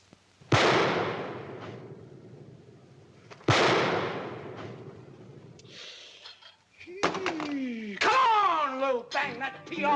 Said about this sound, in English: Now lift up that pistol and shoot.